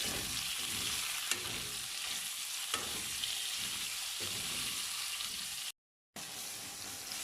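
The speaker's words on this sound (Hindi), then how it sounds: "इनको हम फिर से अच्छी तरह से फ्राई कर लेंगे" Tomatoes frying for a chicken and bitter gourd (karela) gravy: a dense, continuous sizzle and crackle close by, with faint periodic stirring scrapes and a brief dropout near the end.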